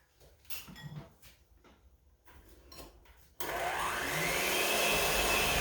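Quiet clattering and handling noises, then an electric mixer switches on abruptly and whirs loudly and steadily as it creams butter and sugar, its pitch rising slightly.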